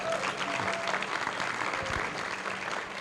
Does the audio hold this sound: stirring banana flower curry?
no